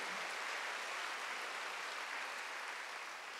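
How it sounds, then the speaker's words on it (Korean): A church congregation applauding during a Sunday worship service, a steady wash of clapping that stays fairly even and moderately loud across the whole stretch, with no voices over it. "박수로 하나 더 해주세요"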